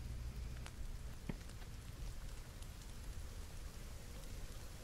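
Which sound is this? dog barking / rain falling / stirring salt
rain falling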